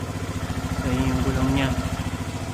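A Suzuki Burgman automatic scooter engine idles with a steady throbbing pulse, then is throttled up briefly so the pitch rises and falls back to idle.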